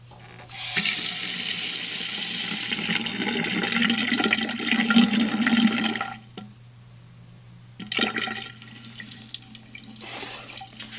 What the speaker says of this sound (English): make sure that you adjust your sink to a reasonable pressure